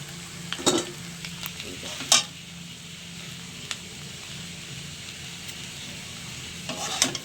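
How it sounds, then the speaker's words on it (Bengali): Maggi noodles frying in a pan while being stirred, a steady low sizzle running throughout with a few sharp scraping clacks of the spoon against the pan. "ম্যাগি ভাজাটা করছি,"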